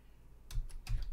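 Quick keystrokes on a computer keyboard typing a Linux terminal command, two or three crisp clicks in close succession, near and clear with no speech.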